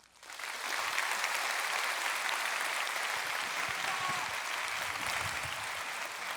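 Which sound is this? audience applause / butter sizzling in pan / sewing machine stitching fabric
audience applause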